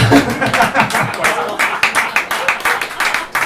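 Audience applause and clapping rolling on for a few seconds, dense and fairly loud, with some cheering voices mixed in.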